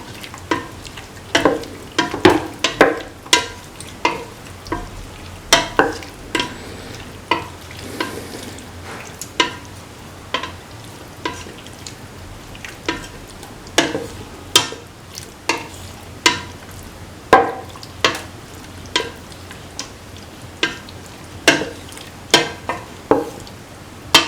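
Raw beef being mixed with salt and other ingredients for a bottle gourd stew, with repeated sharp scraping and clinking knocks of a utensil against a pot in an irregular rhythm, close and clear with no talking.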